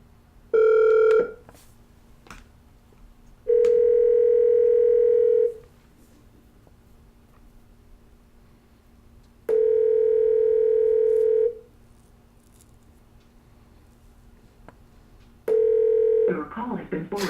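Steady telephone dial tone sounding in repeated bursts of about two seconds each, separated by pauses, heard during a call back on a live prank-call show, with a brief burst of noise at the end.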